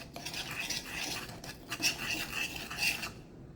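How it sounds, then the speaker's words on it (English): A spoon stirring thyme and garlic around a pot, scraping and swishing in a steady, fairly close rhythm with a few brighter metallic clinks, no talking. "I'm just going to stir that all around, get it all mixed"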